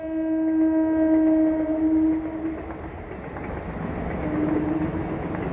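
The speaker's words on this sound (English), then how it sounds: "Can you hear the train?" A train passing nearby, heard as a steady rumble with a sustained tonal horn or wheel squeal that fades, then a softer tone returns against the continuing roar.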